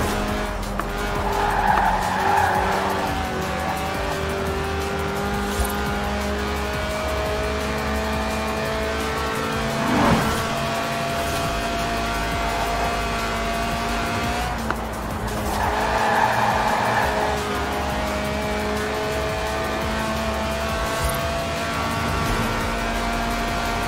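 A Lotus weighing under 700 kilos, with a 190-horsepower 1.8-litre engine, drifts at 8,000 RPM in Forza Horizon 4. A steady high engine drone carries layered harmonics, with tire squeal swelling in bursts around two seconds and again around sixteen seconds.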